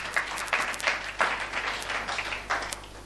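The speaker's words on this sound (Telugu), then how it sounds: "మరోసారి చప్పట్లు కొడుతున్నాం." An audience applauds at a Christian sermon gathering, a moderate patter of clapping with a few sharper bursts, continuing steadily without talk.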